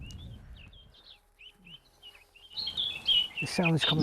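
Recorded songbird calls play from speakers mounted in trees to lure migrating birds, sounding as thin repeated chirps, with other birds and people speaking as it grows louder near the end.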